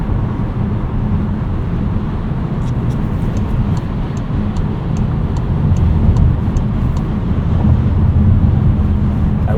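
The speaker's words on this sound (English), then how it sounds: "Getting a little bit more road noise at speed here, especially on these 19-inch wheels." Steady road noise inside a 2025 Volkswagen Taos on 19-inch wheels driving at speed in winter, a continuous low rumble and hiss that swells slightly partway through.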